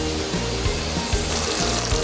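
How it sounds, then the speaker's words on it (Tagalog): A pot of pure coconut milk bubbles and sizzles steadily, with soft pops and low gurgles as it simmers, loud and close, with no voices. "medyo kumukulo na yung ating purong gata"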